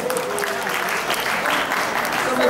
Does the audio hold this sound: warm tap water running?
no